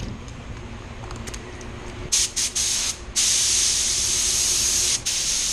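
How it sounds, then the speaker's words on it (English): Short bursts of aerosol sealer spraying onto raw plastic, then a long continuous hiss of spray, briefly interrupted near the end before resuming. "I'm going to spray the sealer at, I'm going to guess, 21 of 18"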